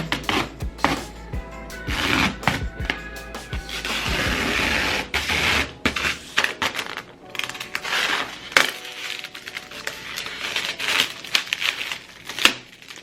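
Protective film peeled off the front panel of a PC case during a makeover, heard as a long run of close crinkling and tearing crackles with sharp bursts and brief pauses, no talk.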